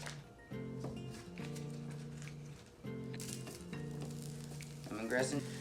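A full stick of butter sizzling in a pan with aromatics: a steady, close frying hiss with occasional stirring scrapes and a low tonal hum underneath, growing slightly busier toward the end.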